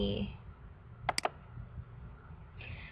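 Three quick clicks of a computer mouse in the middle, faint against a low room hum, during ArcMap software work.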